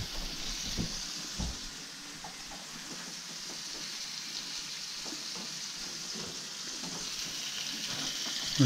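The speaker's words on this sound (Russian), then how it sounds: "Жарим на самом максимуме." A steady, soft sizzle of food frying in a pan on maximum heat, with a continuous hiss and occasional faint crackles.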